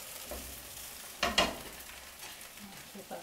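Pork and green bean turnovers are flipped in a hot, dry pan, giving a soft steady sizzle and two quick close clacks from the turn.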